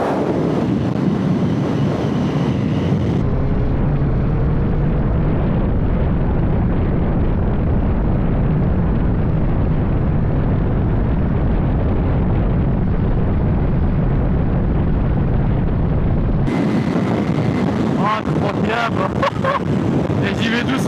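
Yamaha R9 motorcycle engine during a ride, a steady loud drone with heavy wind rush throughout, the roar swelling in the middle section while a rider speaks intermittently over it.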